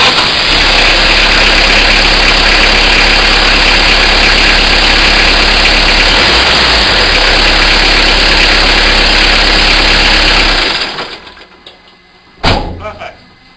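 A Peugeot Partner diesel van engine with newly changed glow plugs, running at a loud, steady idle close by for about ten seconds, then shutting off before a brief final thump.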